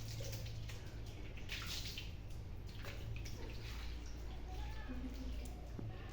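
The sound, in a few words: water splashing while bathing a pet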